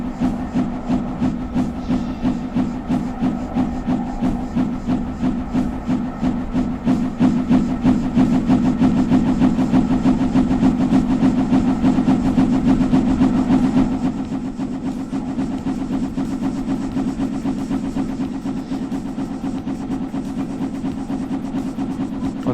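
Locomotive engine in a train-operations video game, a steady, loud diesel rumble with a rhythmic pulsing beat that swells midway then settles, with no talk.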